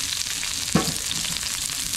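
Scallion, ginger and garlic hit hot oil in a large iron wok over a wood-fired stove, giving a steady close sizzle with a brief louder crackle from stirring partway through. No voices are present.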